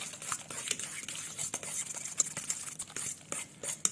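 Roasted eggplant being mixed by hand with tahini and salt for Lebanese baba ganoush, a soft, wet, irregular stirring and squishing close by, with faint clinks of a utensil and no talking.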